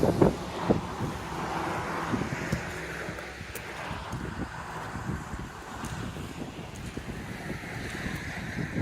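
Wind gusts across a microphone on an Appalachian Trail section hike near Interstate 77, a constant, close, low roaring buffet with soft rumbling that swells and eases without a break.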